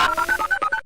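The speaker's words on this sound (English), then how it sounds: "There goes my phone." A short, quick run of electronic phone tones beeps in rapid succession, loud and close, lasting under a second.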